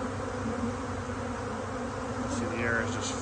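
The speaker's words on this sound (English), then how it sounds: "The air is just filled with bees." A honey bee swarm fills the air, giving a steady dense buzzing drone close by, with a few louder individual bees passing near the microphone.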